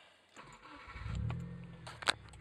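A car engine, apparently a Subaru or Audi A3, cranks and catches close by, the starter churn rising into a brief idle with a sharp click near the end.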